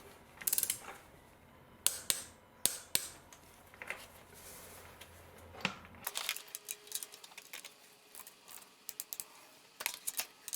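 Ratchet tightening spark plugs on a Honda Jazz engine, with scattered metallic clicks and ticking pawl ratchets, some quick clustered runs, close and quiet, no talking.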